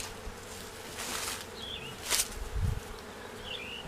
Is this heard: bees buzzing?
yes